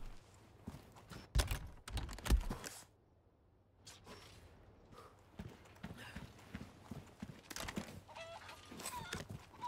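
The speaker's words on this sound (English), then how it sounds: "Chicken? Come here, chicken." A chicken in Resident Evil 4 Remake clucks in short scattered calls amid game footsteps and sharp clip-clop knocks, with quieter stretches between bursts.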